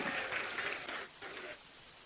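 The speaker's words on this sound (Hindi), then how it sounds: "जोर से ताली बजाओगे तब मजा आएगा" A crowd at a BJP political rally in Rajasthan claps loudly in sustained applause that swells and then tapers off, with a faint voice beneath.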